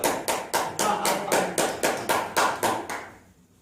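A church congregation claps hands in a steady, rhythmic unison beat, about a dozen sharp, loud claps in a row before stopping abruptly.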